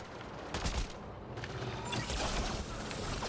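Turret gunfire from the Mass Effect Andromeda video game crackles in a dense, continuous barrage of overlapping shots at moderate loudness, with louder bursts near the start and again around the two-second mark.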